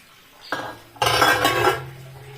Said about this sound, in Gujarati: હવે આપણે ગેસ બંધ કરી દઈશું ઢાંકણ ખોલશું